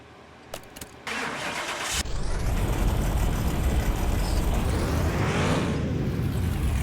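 A car engine in Car Mechanic Simulator 2021 cranks over after a few clicks, catches around two seconds in and then roars in a loud, sustained rev that climbs and falls, with no talk over it.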